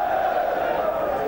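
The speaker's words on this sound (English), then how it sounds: "Every pass greeted with a loud cheer." A football crowd at Old Trafford roars a sustained cheer as Manchester United keep possession against Sheffield Wednesday in a 1993/94 Premier League match, steady and dense throughout the short moment.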